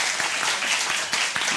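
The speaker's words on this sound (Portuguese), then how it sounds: "Pode aplaudir." An audience at a municipal culture conference in Rafard breaks into applause, a dense continuous patter of many hands clapping at fairly close range, steady and moderately loud throughout.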